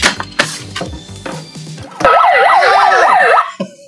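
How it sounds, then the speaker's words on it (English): A handheld portable megaphone lets out a few short electronic chirps and tones, then a loud, close wailing siren that sweeps rapidly up and down for about a second and a half before cutting off. "portable megaphone with siren"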